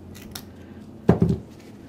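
Scissors trim a dried mushroom stem for a woodland topiary piece: a couple of quick, close snips land together just past the midpoint against a quiet background, with no talking.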